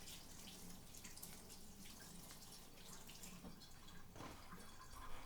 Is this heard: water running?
yes